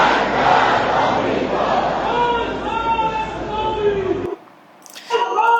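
A huge crowd in Tehran chants Death to America slogans in loud rhythmic unison, then the chant cuts off abruptly near the end, followed by a brief voice.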